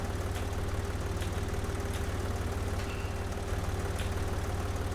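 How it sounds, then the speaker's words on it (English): A slow farm tractor engine in the PC farming simulator Pro Farmer 2014 drones steadily, a loud low rhythmic chugging throb that continues without break, alone. "I wish I had a faster tractor. Really. This is a really slow tractor."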